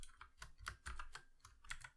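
Soft, rapid keystrokes on a computer keyboard as C# code is typed for a Unity game, a quiet, uneven patter of clicks with no talking.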